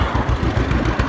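A John Deere tractor engine idles close by during early spring field work, its steady low chugging pulsing in an even rhythm with nothing else over it.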